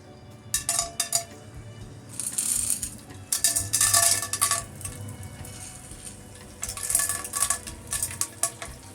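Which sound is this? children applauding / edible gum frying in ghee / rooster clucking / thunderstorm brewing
edible gum frying in ghee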